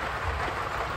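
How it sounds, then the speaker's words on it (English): Steady rain falling after a thunderstorm has mostly passed, a dense, even hiss close by with no talk, lasting about a second. "the storm, the majority of the storm has seemed to pass. There's still some thunder in the background"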